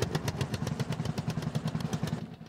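A vintage 1929 tractor engine runs in Farming Simulator 22, a steady rapid putt-putt beat of close, loud chugging pulses that carries on without talk.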